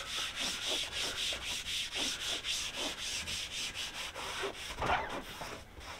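Hands pressing and rubbing newly glued fabric headliner onto the removable hard top of an Audi, a steady back-and-forth scrubbing rhythm of about two strokes per second, close and quiet with no voices.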